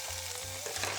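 Sea bream pan-fries in butter and minced garlic in a Staub pot, making a loud, continuous close-up sizzle with faint stirring and scraping and no voices.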